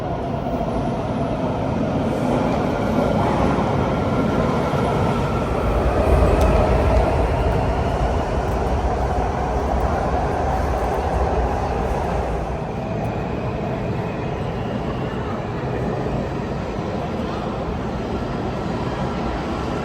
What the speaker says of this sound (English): looks like our train's coming already.